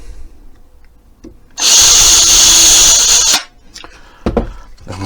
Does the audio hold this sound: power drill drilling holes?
yes